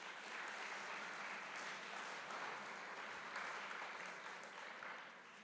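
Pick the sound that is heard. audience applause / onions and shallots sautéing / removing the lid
audience applause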